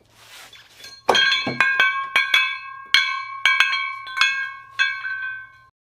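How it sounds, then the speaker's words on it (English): Three 10-pound dumbbells drop from 19 inches onto a drawer box and clash repeatedly, each impact ringing with a bright, bell-like metallic tone that decays; about nine strikes in irregular rhythm, close and loud. "Okay, so this is 20 pounds falling from 19 inches."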